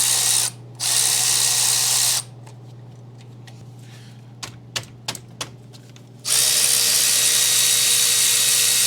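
An impact tool with a 13 mm socket buzzes loudly in two long bursts while removing the front brake caliper pins on a 2009-18 Dodge Ram 1500, with a short quieter stretch of small metallic clicks between them.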